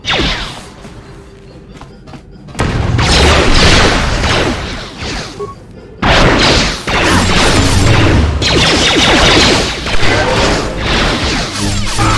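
Heavy bombardment in Star Wars: Knights of the Old Republic, loud booming blasts and crashing debris in two long sustained rumbling waves separated by short quieter gaps, with no voices.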